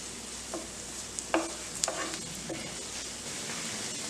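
Onions frying in a pan for Schezwan Maggi, with a soft steady sizzle and a few scattered stirring scrapes and clinks, quiet and close.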